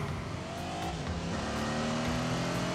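A Lamborghini Countach engine in The Grand Tour video game drones steadily at high revs, loud and continuous throughout, with no talking.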